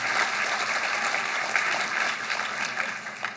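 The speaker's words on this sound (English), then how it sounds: "clap it up for them" A crowd at a business awards breakfast applauds steadily, a dense wash of many hands clapping at a constant level throughout, fairly close and loud.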